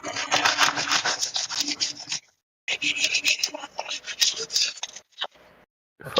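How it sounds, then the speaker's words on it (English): Brisk, repeated scratchy rubbing strokes in uneven bursts, close up, like sandpaper worked over a surface, with brief pauses between runs. "are you sanding something?"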